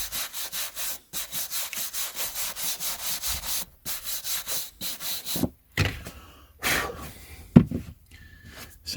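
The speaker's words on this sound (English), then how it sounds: "The brushing stage doesn't take too long, but the polishing can do." Brush strokes and polishing rubs on a vintage book, first as a fast, steady run of close, loud scrubbing strokes, then slower, more scattered rubs with short pauses.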